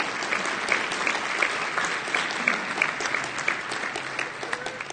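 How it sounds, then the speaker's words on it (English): Steady applause from a conference audience at a Drupal developer event, a dense, even wash of many hands clapping for about five seconds at moderate loudness, with no voices over it. "You can have an applause if you want."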